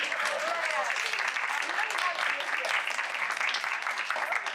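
An audience at a women in project management event applauds one man in the crowd: a soft, continuous patter of clapping with voices talking over it.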